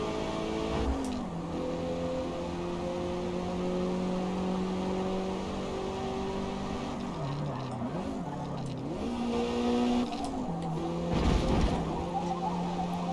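A car engine in a racing video game revs and accelerates through the gears, its tone climbing and dropping with each shift and corner, steady and fairly loud, with no talking.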